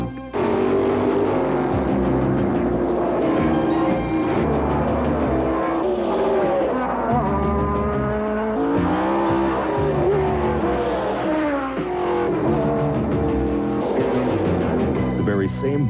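Drag racing cars at the 1986 IHRA Fall Nationals roar down the quarter-mile strip, a loud, continuous engine howl with rising and falling pitch that is mixed with background music and heard alongside commentary.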